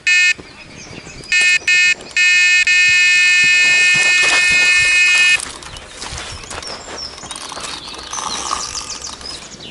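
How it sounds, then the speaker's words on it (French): An alarm clock sounds in loud, shrill electronic beeps, several short bursts and then one long sustained ring. It stops, leaving faint outdoor ambience by a river with scattered bird calls. "Oh le réveil"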